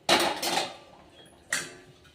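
Green chillies tipped into a pan with oil for roasting, for a okra (bendekai) chutney: two sharp metallic clatters of utensil on pan, close and loud, the first longer and rattling, the second brief, with quiet between.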